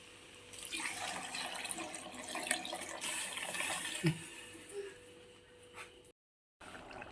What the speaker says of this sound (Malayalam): ഇനി നമ്മൾ വെള്ളം ഒഴിക്കാൻ പോവാം